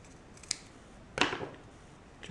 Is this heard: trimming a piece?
yes